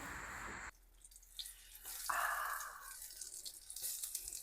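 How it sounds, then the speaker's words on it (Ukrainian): Eggplant slices sizzle and crackle in a pan heated to maximum for a Lebanese eggplant salad, a close, moderately loud hiss with scattered pops and one stronger burst of sizzle partway through, no talking. "І будемо зараз смажити."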